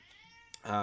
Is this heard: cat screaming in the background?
yes